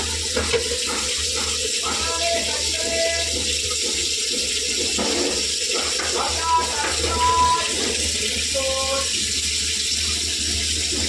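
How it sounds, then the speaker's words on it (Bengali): Soybean chunks are washed and squeezed under a running tap, a steady close gush of water into a sink with intermittent splashing and squelching, while a person talks over it. "ধুয়ে এইভাবে চিপে চিপে নেব"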